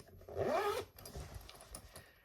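A zipper runs along a thick padded pouch in one quick close pull, followed by softer rubbing and handling noises with no talk.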